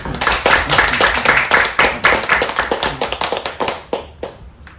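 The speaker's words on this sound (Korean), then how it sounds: "우리 박수로 맞이하죠" A lecture audience claps in welcome for a speaker, a dense, close burst of hand claps that thins into a few scattered claps before fading out.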